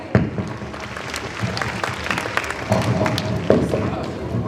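Audience applause in a school hall during an annual function, a steady mixed clatter of clapping with crowd murmur and some talk underneath, lasting throughout.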